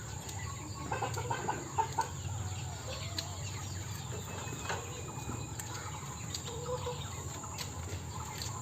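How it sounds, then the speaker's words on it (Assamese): Chickens cluck softly and steadily while pecking at and eating banana leaves outdoors, a close, continuous farmyard murmur with occasional louder calls and a faint insect hum behind. "আপোনালোকে কলপাত খোৱা মুৰ্গী দেখিছিল নেকি"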